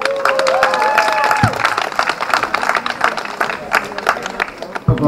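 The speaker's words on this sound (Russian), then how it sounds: "аплодисменты, друзья!" Guests at a graduation party applaud, a dense, loud patter of clapping and crowd noise mixed with a voice and music-like tones.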